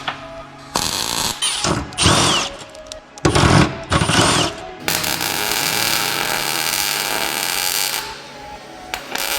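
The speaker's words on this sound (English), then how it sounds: "Let's go tack it up on the body" Tack welding on a Honda Civic Type R car body during an AWD conversion, with bursts of harsh crackling and buzzing separated by short gaps, then a longer sustained stretch of welding noise, close and loud.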